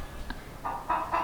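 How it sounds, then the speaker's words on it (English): Chickens in a barn clucking as two hens squabble over a nesting box, a few short agitated clucks and squawks close by, growing louder toward the end. "there's a nesting box that 2 chickens are fighting over"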